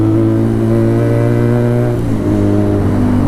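Benelli TNT300 motorcycle fitted with an Ixil full-system exhaust runs loud and close, a steady droning engine note with strong harmonics that dips briefly near the two-second mark before resuming.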